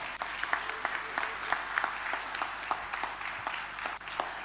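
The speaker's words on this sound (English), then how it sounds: "Shall we all put our hands together and give them a loud round of applause?" An audience at a church Christmas cantata claps for the choir, a steady wash of many hands with distinct sharp claps popping through, moderately distant and continuous for the whole stretch.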